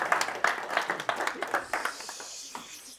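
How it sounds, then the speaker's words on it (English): An audience claps together at a small business talk, producing a steady run of distinct, moderately loud hand claps that thin out and fade over a few seconds. "Why don't you give her applause?"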